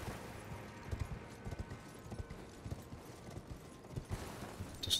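A horse gallops in the video game Elden Ring, its hooves drumming in a quick, steady rhythm at moderate loudness over soft ambient background, with no talk.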